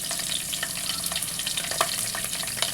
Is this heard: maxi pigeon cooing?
no